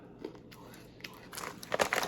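Crunchy spicy snack chips are bitten and chewed close up, a few crisp crackles rising toward the end with faint breathy sounds between.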